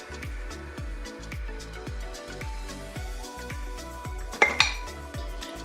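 Ribs coated in BBQ sauce go into a slow cooker pot amid a steady run of clinks and taps of utensils and crockery, with a louder pair of clanks near the end and no talking.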